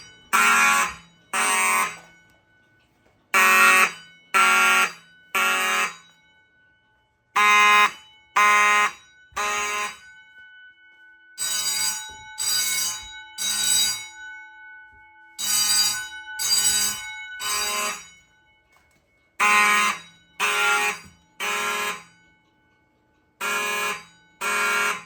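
A fire alarm system test rings an Edwards bell in a temporal-3 pattern: loud, close bursts of three rings separated by pauses, repeating over and over with no voices.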